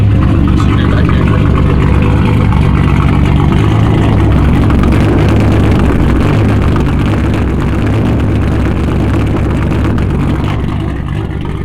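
A turbocharged VR6 car engine with a running fault, loud and close, holding a steady rough idle with swells of revving and a slight drop in level toward the end.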